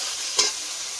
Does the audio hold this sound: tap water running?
no